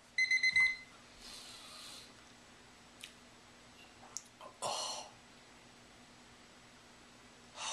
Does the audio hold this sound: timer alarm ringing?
yes